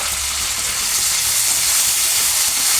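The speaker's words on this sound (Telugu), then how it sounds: "టమాటా కూడా మంచిగా ఫ్రై చేసుకోవాలి." Tomatoes fry in a pan with onion and curry leaves, a steady, close sizzle that runs without a break from start to end, with no voices over it.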